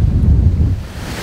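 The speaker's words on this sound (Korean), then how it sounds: "지금 너울성 파도가 좀 있는데요." Strong headwind buffets the microphone over a heavy, low rumble of sea swell on the rocky coast of Udo, off Jeju, at a fishing spot. The roar is loud, continuous and close.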